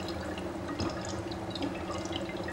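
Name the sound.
dry ice sublimating and bubbling in a container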